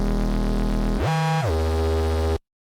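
Reese bass synth built from phase-distorted saw waves with a layer several octaves up, loud, dense and gritty, with a pitch sweep upward then back down midway before cutting off abruptly.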